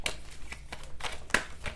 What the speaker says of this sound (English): Let me shuffle this again really quick